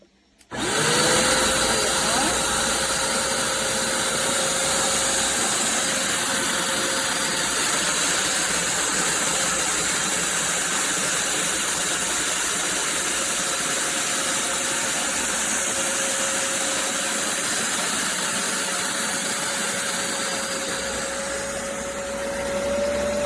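A Bissell Revolution HydroSteam Pet upright carpet cleaner starts abruptly and then runs with a loud, steady motor whine and suction roar close by, holding a constant pitch for the whole stretch with no talking.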